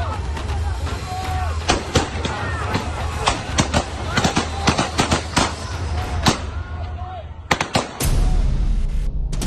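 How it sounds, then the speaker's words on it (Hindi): Repeated sharp gunshot cracks from Russian soldiers fire in irregular bursts during the war in Ukraine, some close together, over a busy background of voices and crowd noise. "जिन्हें आगे बढ़ने से रोकने के लिए रूस के जवान गोली चला देते हैं।"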